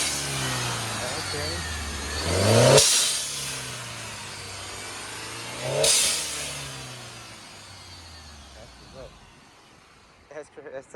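A turbocharged four-cylinder car with a six-speed automatic revs twice, each surge climbing and ending in a sharp, loud hissing blow-off, then settles to a low idle while people talk nearby.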